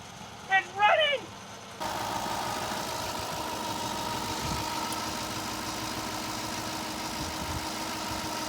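A Toyota Land Cruiser engine runs at a steady, unrevved idle with a low, even drone at moderate loudness, following a brief voice at the very start.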